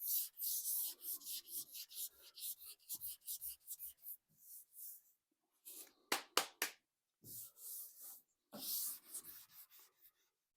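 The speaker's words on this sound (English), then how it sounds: "I'll go over it with like 800 grit to make sure that the new gold paint goes on" Dry, hissy strokes of 800 grit sandpaper on a 1966 Mustang's painted part come in short bursts with brief pauses between them, close by and fairly quiet.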